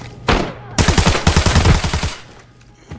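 Suppressive gunfire in the shooter game Arena Breakout: a short burst, then a loud, rapid automatic stream of shots lasting over a second, close and punchy, with a lone shot after it.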